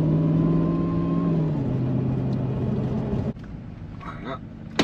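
A car engine drones steadily while driving, pitch rising and dropping as it accelerates through the gears, with a shift audible partway through and faint interior clicks near the end.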